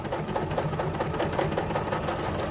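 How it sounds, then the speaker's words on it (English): A sewing machine stitches fabric in a steady, close, continuous whir with a fast rhythmic needle chatter, heard alone without talk. "And then you just start sewing."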